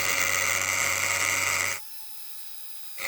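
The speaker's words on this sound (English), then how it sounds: "This drill bit really doesn't want to go through this metal" A high-pitched whining power drill bores into metal, grinding steadily for under two seconds, then cuts off into near silence before briefly starting again.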